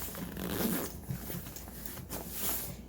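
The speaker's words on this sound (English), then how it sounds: "go ahead and get my zippers" Backpack zippers are pulled closed in a few quick, scratchy runs close by, with rustling of the pack in between.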